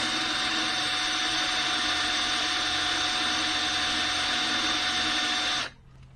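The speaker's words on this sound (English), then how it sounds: "It's only cast iron, folks, so it drills really easily" A power drill bores through a cast iron plate during a 20-ton shop press build, giving a loud, steady grinding whine for about five and a half seconds before it abruptly stops; no one speaks.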